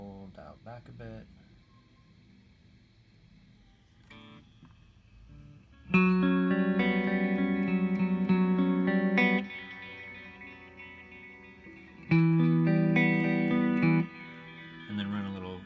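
An electric guitar runs through a BOSS MS-3 delay with a shimmer tone and reverb, sustained chords ringing with trailing echoes, two louder strummed swells separated by quieter decaying passages.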